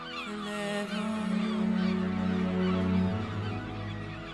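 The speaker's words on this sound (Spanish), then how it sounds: "acompañados por una bulliciosa bandada de gaviotas" A noisy flock of seagulls calls over the sea, a dense overlapping chorus of harsh honking cries, loud and continuous before thinning out.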